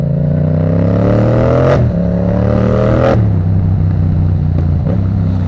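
A black 74-horsepower motorcycle engine revs loudly and close, holding a steady growl that climbs in two rising swells, each cut off sharply before settling back to idle.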